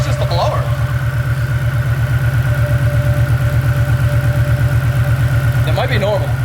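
A Whipple Stage 2 supercharger's fresh rotor packs whine steadily on a 2024 Mustang GT as it idles, a constant high hum over a loud, pulsing low engine rumble, with brief voices talking at the start and end.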